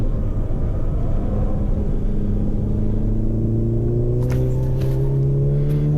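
A time attack race car engine drones loud and close at Mid-Ohio, pitch climbing steadily under acceleration through the gears with a constant in-car rumble and no talking.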